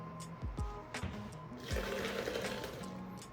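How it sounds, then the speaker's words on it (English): Hot vegan mac and cheese sauce is poured into a blender, a gurgling, splashing liquid pour that starts in short spurts and then settles into a steadier stream nearby. "we're gonna pour all of this into our blender"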